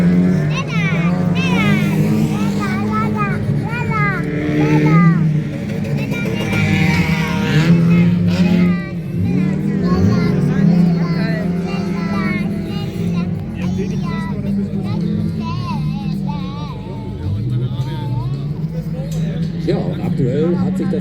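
Youth-class autocross cars race at Hesborn, Germany, their engines revving and whining loudly as they pass, under continuous commentary.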